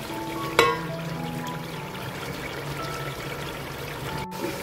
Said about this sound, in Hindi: और भूनने के बाद हम इसमें चावलों के लिए पानी डालेंगे।